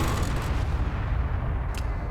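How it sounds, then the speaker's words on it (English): A cannon in a video game fires, giving a continuous, heavy, rumbling barrage of booms and blasts that fills the whole stretch at steady loudness. "P to launch the cannon"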